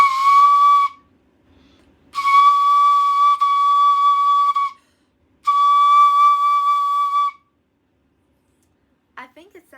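A Japanese ryuteki, a transverse bamboo flute, plays three sustained, clear high notes with brief pauses between them, loud and close, followed by a faint rustle at the end.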